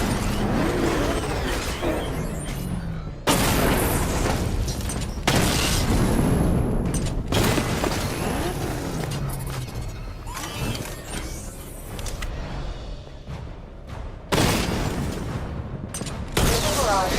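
Heavy Batmobile cannon and missile fire in Batman: Arkham Knight, loud booming blasts and explosions in irregular bursts, each followed by crackling debris and rumble, with a game voice briefly talking between hits.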